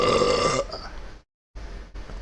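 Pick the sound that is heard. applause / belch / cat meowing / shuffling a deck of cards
belch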